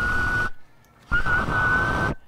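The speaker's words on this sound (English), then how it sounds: "You got a whistle." A steady high whistle tone from a ham radio receiver on an F-loop antenna over harsh radio static, in two bursts separated by a short near-silent gap.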